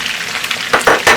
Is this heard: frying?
yes